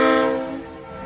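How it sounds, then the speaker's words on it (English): A passing train sounds a loud, rich multi-tone horn blast that cuts off and fades into low rumble within about a second. "That's the Holo train."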